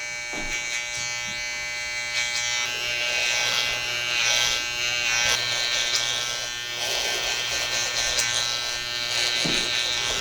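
Electric hair clippers with a size 1 comb taper the neckline during a haircut, a steady close buzzing hum that runs nearly unbroken, with slight shifts as the blades move against the hair.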